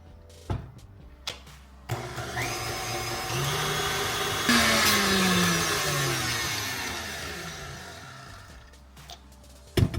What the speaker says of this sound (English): Now let me put this back on and we'll blend it and see if it turns pink.